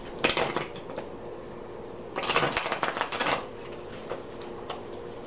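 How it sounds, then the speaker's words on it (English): Message cards being shuffled for a card reading, quiet riffling bursts in a few short clusters, close and soft, with no voices heard. "So let's pull some message cards."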